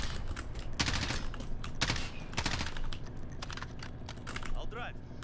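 Rapid bursts of MP5 submachine gun fire in Call of Duty: Warzone, several quick automatic volleys close up, with someone talking over them.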